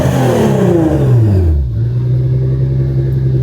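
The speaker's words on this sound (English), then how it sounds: "Really quickly, just give you guys some more revs inside the car." A Nissan GT-R R35 with an Fi exhaust, valves open in race mode, revs loudly as heard from inside the cabin, the engine note falling from a high rev into a steady deep idle rumble.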